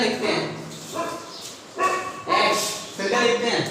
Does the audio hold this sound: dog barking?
yes